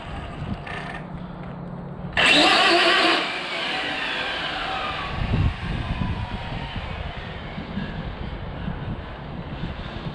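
An RC drag racing car, its spool failing, makes a short, loud high-pitched burst down the strip, then fades into steady outdoor wind noise and background rumble.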